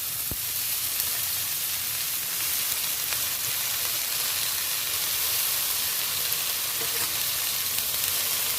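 Potatoes fry in oil in a kitchen pan, holding an even, close hissing sizzle with a faint tap or two and no voices.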